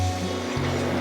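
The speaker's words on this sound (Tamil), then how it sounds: "அதில் 1 கப்பு தண்ணி ஊற்றிக்கணும்" Water from a cup pours into a pan holding half a cup of sugar to make sugar syrup, a steady wash of liquid noise over a low hum, brief and close.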